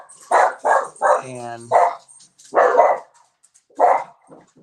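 Dogs at a no-kill animal shelter bark in a string of loud, close woofs with a brief yelp in the middle, while a person speaks briefly.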